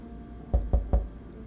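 Three evenly spaced knocks on a door in a furry video game, quick and solid against an otherwise quiet background.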